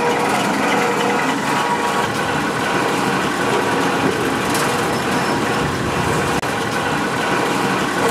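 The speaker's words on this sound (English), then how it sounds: "This is a trunnion drive, powered by a 10 horsepower 3-phase electric motor, 25-to-1 shaft mount gear reducer." A trommel screen's trunnion drive, run by a 10 horsepower three-phase electric motor through a 25-to-1 shaft-mount gear reducer, gives a steady, loud mechanical roar and rumble that holds unchanged throughout, with no voices.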